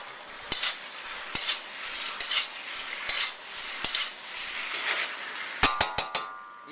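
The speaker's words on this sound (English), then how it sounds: "the last minute, we add the shrimp back in" Shrimp stir-frying in a pan with string beans and roast pork, a steady sizzle broken by regular scrapes and clacks of a spatula against the pan, ending in a quick cluster of sharp metallic knocks.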